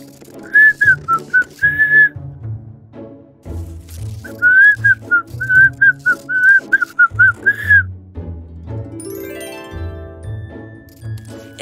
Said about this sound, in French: Siffler en travaillant.